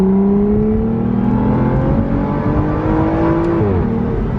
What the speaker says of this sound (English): Aston Martin knows how to make an exhaust note.